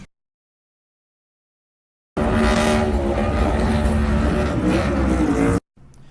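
Denny Hamlin's NASCAR Cup race car doing a victory burnout at Charlotte, a loud sustained engine roar with screeching tires for about three seconds after a silent start, ending abruptly.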